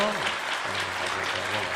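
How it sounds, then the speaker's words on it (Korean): A church congregation at a Sunday service gives a short burst of thankful applause, a steady wash of clapping with a low voice humming or speaking beneath it. "감사의 박수 하세요"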